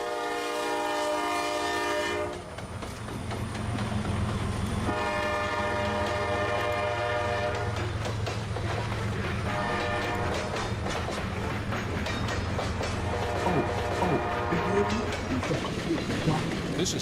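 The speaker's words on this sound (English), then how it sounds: "rebuilt from a 1990s era AC44CW, but it still has that Dash 8 and Dash 9 era horn" CSX 7002, a CM44AC freight locomotive rebuilt from a 1990s AC44CW, sounds its Dash 8/Dash 9 era multi-chime horn in three long blasts over a heavy engine rumble and rolling grain train, with a voice briefly heard.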